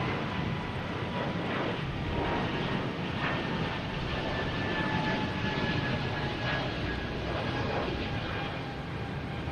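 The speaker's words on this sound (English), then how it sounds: "JetBlue heading to Savannah in A220" JetBlue Airbus A220 jet taking off at Boston Logan Airport, a loud sustained roar of jet engines with a faint whine, steady and broad throughout with no speech.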